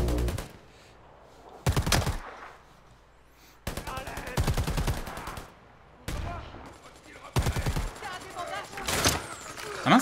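Gunfire in the Predator: Hunting Grounds video game: several loud bursts of shots, some rapid like automatic fire, spaced across the clip, with quieter game ambience between them.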